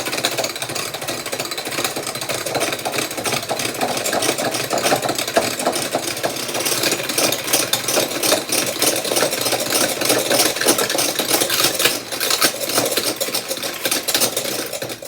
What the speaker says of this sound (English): we're just going to mix it. And you want to mix it until it gets some soft peaks.